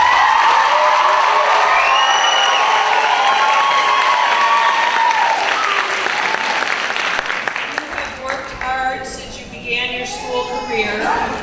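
Applause and cheering for new graduates at a 2015 education center graduation ceremony, steady crowd clapping with whoops and shouts that thins out toward the end as voices and chatter come through.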